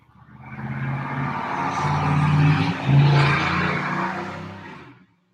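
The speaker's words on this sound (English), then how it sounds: "Pardon the traffic." Passing road traffic sweeps by outside, a steady swelling roar of vehicles and tires that builds, peaks around the middle and fades away, heard alone without talk.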